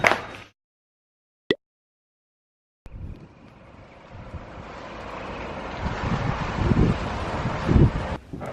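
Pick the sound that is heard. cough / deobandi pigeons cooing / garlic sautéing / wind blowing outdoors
wind blowing outdoors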